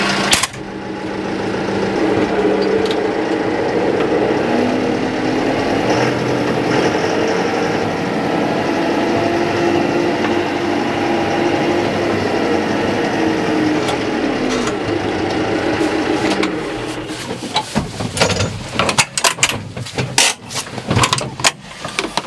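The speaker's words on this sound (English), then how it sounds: "This one has a Deutz air-cooled engine in it." A big TYM tractor with a Deutz air-cooled engine moves forward, its loud, steady diesel drone running close for about sixteen seconds before fading into scattered clunks and knocks.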